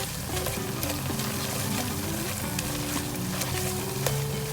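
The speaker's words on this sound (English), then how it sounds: "It's now time for me to add my chili pepper." A pan of eggplant stew sizzles and bubbles steadily as chili pepper is added, a soft close frying crackle with no voices.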